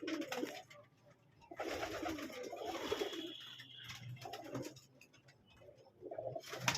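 Racing pigeons coo in a loft, several low rolling coos coming in bursts with pauses between, close and quiet, with some shuffling and faint higher chirps.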